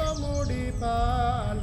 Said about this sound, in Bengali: আর এই জায়গায় প্রচুর পাখি ডাকে।